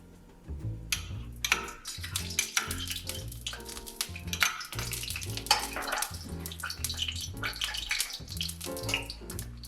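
Lard melting into vegetable oil in a hot wok, a busy close sizzle with clinks and splashy crackles that runs steadily throughout, with no voices.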